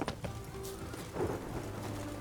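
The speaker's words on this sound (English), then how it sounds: "What a downpour." Steady rain hisses in the background while low thunder rolls underneath in The Witcher 3: Hearts of Stone, a distant stormy wash with no voices.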